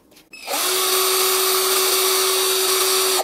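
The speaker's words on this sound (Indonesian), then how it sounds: "Karena ini cordless drill ya, tanpa impact, jadi fiturnya hanya fitur untuk pengeboran pada besi kayu." Cordless drill without impact function, built for drilling into metal and wood, spins up with a sharp start and holds a loud, steady high whine for about three seconds before cutting off.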